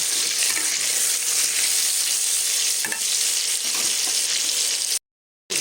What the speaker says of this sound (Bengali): এবার এটাকে লাল করে ভেজে নিতে হবে